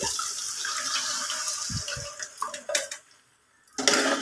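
Yogurt and buttermilk mixture for majjiga pulusu pours into a cooking pot with a continuous liquid splash, a few soft knocks and clinks, then a brief pause before the pouring resumes, heard close.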